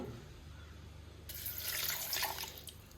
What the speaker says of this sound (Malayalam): ഇനി കുറച്ച് വെള്ളം ഒഴിച്ചു കൊടുക്കുകയാണ്